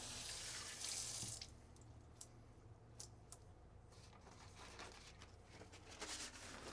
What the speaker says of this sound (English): use warm water to rinse your hands and use paper towel to dry them